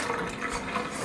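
Hot water runs steadily from a kitchen sink tap inside a 2000 Fleetwood manufactured home, a continuous close hiss and splash with no talking.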